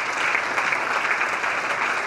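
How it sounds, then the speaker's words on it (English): Audience at a memorial architecture lecture claps steadily, a brief, even wash of applause from a sizeable crowd. "So let's clap ourselves."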